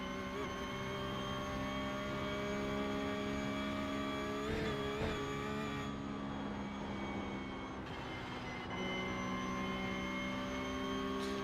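Race car engine on an out lap in the iRacing sim, likely around the Nürburgring: a steady, loud sustained engine drone with strong harmonic whine, brief shifts and a dip in pitch midway, no talk.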